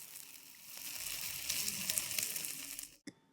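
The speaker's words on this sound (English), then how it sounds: "You'll be able to hear the sizzle, which is so satisfying" A close, crackling sizzle as a hot spoon presses onto sugar on a crème brûlée, caramelising it, rising for a few seconds before cutting off with a small clink.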